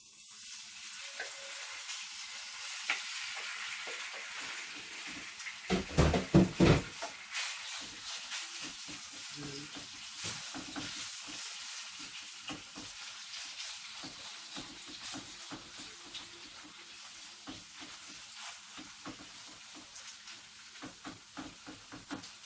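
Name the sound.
pork belly frying in a pan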